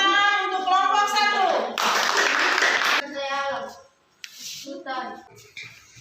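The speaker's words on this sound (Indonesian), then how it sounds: "Tepuk tangan untuk kelompok 1." Classroom applause for a student group: a broadband burst of clapping for about a second, set among children's and a teacher's voices talking before and after.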